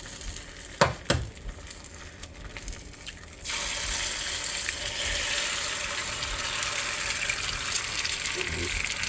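Eggs fry in a restored Parini 10-inch cast iron skillet, giving a steady, close sizzle after a couple of sharp knocks. The sizzle jumps louder partway through and stays bright and continuous.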